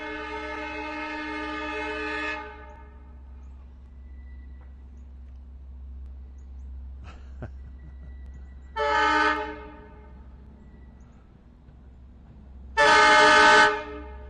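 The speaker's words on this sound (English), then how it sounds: "Some loud horn, isn't it?" A Long Island Rail Road train at Speonk station sounds its loud horn three times: a long blast, then after a pause a short one, then a final short, very loud blast, all over a low steady idling rumble.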